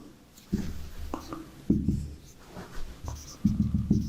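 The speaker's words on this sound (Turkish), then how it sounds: "Ben tahtaya yazıyorum." Chalk or marker scratching on a board in several short bursts of strokes, close and clear, with soft pauses between them.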